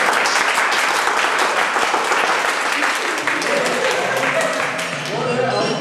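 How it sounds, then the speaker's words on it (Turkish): Audience applause at a live theatre performance, a loud burst of many people clapping that fades toward the end while a voice speaks over it. "Alkış!"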